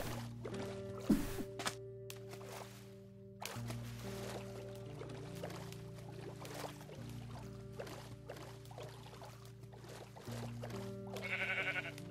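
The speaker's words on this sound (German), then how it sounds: "Ui, ein Schaf." A Minecraft sheep bleats in survival mode over steady game music, a single short blocky bleat standing out near the start before the background tones carry on.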